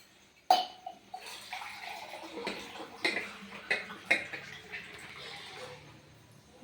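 Water is poured into gram flour batter for bhajiya, giving soft splashing with light clinks and knocks from a bowl or utensil, fairly quiet and close.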